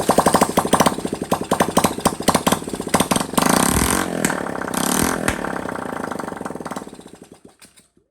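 A small Honda Trail 70 motorcycle engine runs with a loud, fast, clattering putter up close, rising briefly before it slows and dies away into silence as it is shut off.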